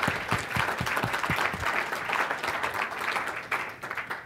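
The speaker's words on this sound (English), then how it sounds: "Can we get a round of applause for all three of them?" Audience applause at a talk on energy projects after case study presentations, a steady crowd clapping with a few distinct louder claps at first, sustained and fairly close for the whole stretch.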